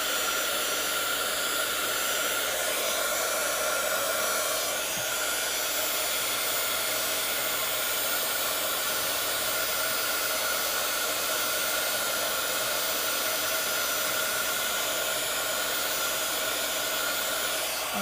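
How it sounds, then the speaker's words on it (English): A heat embossing tool blows hot air over embossing powder on a vellum card, a steady, close, airy roar like a small hair dryer running without pause throughout. "I'm going to go ahead and heat and emboss it."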